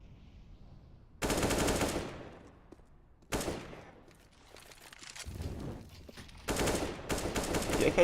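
Counter-Strike: Global Offensive gunfire from a competitive esports match comes in several sharp, rapid automatic bursts, separated by short quieter gaps with faint background game noise.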